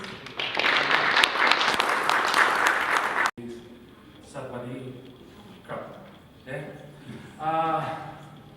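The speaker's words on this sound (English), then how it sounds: "So can you join me to give a big applause to Jose, please?" Audience applause for a speaker at a talk on a smart backhaul trucking system, a dense burst of clapping for about three seconds that stops abruptly, followed by someone speaking.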